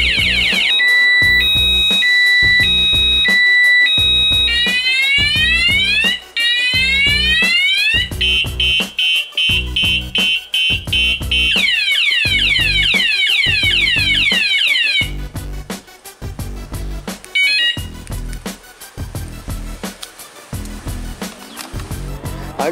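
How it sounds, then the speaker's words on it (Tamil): A Roots security alarm fitted to a Yamaha Saluto 125 motorcycle cycles loudly through several siren patterns: warbling tones, rising sweeps and steady beeps over a rapid pulsing beat, then quieter chirps toward the end. "திரும்பியும் கண்டினியூஸாக இன்னொரு தடவை அடித்தா இது வேறு மல்டி சயரன் அடிக்கும்."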